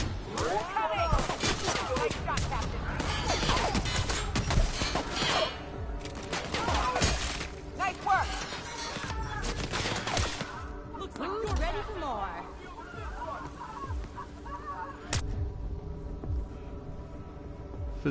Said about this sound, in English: Like three or four guys just shooting at each other?